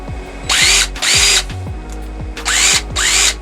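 A cheap brushed cordless power drill driving screws, with loud whirring bursts that rise and fall. There are four close runs with short gaps and some tool handling between them.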